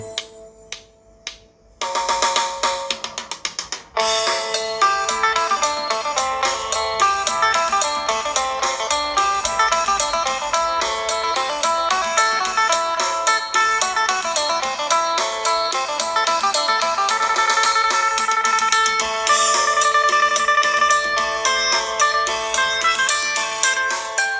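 Lai Hae Om Ban, a traditional Thai phin lute melody, plays from a recording: after a few brief starts, a loud, steady stream of bright plucked notes continues throughout with no talking.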